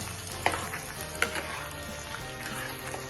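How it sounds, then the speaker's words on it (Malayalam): Mustard seeds splutter in hot oil for a tempering with curry leaves and dried red chillies for a Thrissur-style horse gram curry. A steady sizzle is broken by a few sharp pops, close and without talk. "എണ്ണ ചൂടായി വരുമ്പോൾ കടുക് പൊട്ടിക്കണം കടുക് പൊട്ടിയതിന് ശേഷം കറിവേപ്പിലയും മുഴമുളകും ചേർത്ത് കൊടുക്കാം"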